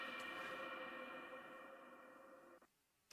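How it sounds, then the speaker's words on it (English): A sustained, dense reverberant wash on Foley audio that slowly fades and then stops dead as the reverb tail cuts off, followed by near silence and a brief sharp sound at the very end. "The reverb cut off."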